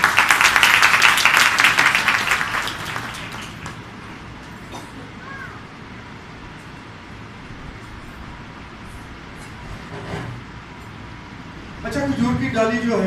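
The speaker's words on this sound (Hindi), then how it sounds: "खुदा के जलाल के लिए जोरदार तालियां बजाएं" A burst of loud applause from a church congregation at a Palm Sunday service opens the clip, dense and sustained for a few seconds, then fades into quieter room noise.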